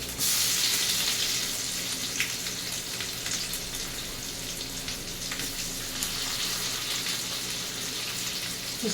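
Stuffed bitter gourds fry in hot oil in a pan, a steady bright sizzle that holds at a moderate level throughout, close by and with no talk over it.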